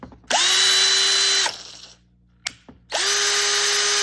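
A Topshak TS-ED3 20-volt cordless drill whirs in two close bursts, slow then fast speed, with a brief winding down between them, the motor pitch steady and high while running.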